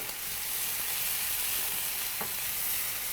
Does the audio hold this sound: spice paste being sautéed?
yes